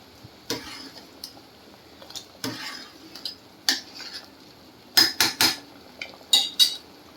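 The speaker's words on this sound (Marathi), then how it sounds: "परत एकदा मी छान हलवते." A spoon stirs a cooked sabudana papad mixture in a metal pot, with sharp intermittent scrapes and clinks against the sides, some quick clustered strokes, close and fairly quiet.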